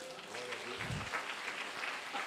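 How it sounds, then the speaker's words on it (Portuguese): Applause for a speaker from a church audience, a brief faint patter of clapping with a low thump near the start and murmuring voices underneath. "Outro aplauso para ele."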